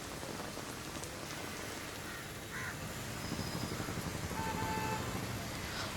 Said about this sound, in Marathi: पावसाची रिपरिप सुरूच आहे।